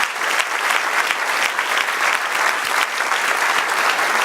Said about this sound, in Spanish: Y el otro aplauso al Señor.